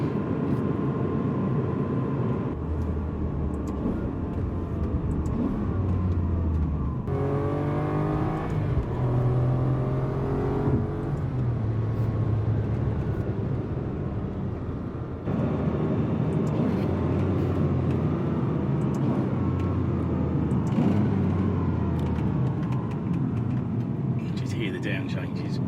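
A 2003 Ferrari 575 Maranello road car with a 500-horsepower engine accelerating from inside the cabin, its engine note rising and falling through gear changes as a steady drone beneath someone talking.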